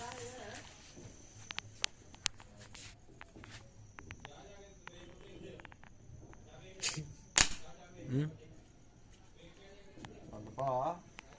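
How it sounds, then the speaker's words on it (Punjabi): Sharp, sparse cracks and bangs of red firecrackers go off at irregular intervals, a few loud close pops among fainter ones, with people talking in the background. "ਨਾਲੇ ਲਾਲ ਪਟਾਕੇ ਚਲਾ"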